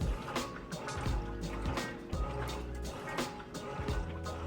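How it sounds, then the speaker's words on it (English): A Whirlpool Roper top-load washer agitates clothes in water during its wash cycle, giving rhythmic sloshing and swishing strokes about once a second at a moderate, even level. "You see it's doing an excellent job with that agitation."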